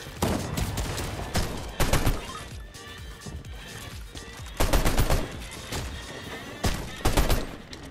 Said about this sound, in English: I just got sniped out of nowhere.